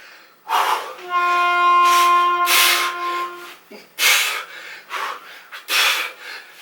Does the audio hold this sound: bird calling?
no